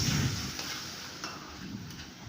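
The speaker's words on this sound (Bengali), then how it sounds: "সুন্দর করে মশলাটা কষিয়ে নেব।" Spice paste with turmeric and a splash of water being sautéed in a pan for a prawn malaikari, a soft steady sizzle with faint scraping stirs, no talk.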